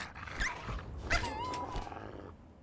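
A dog in the video game Fallout 3 growls and lets out short snarling barks and yelps, fairly close and moderately loud over a low game background.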